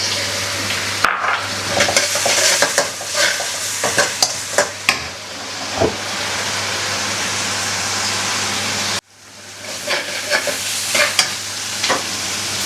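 Sliced onions and green chilies sautéing in a pan with ginger-garlic paste for keerai poriyal, a loud close sizzle with repeated stirring scrapes and spoon taps, briefly cut off then resuming steady frying, no talk.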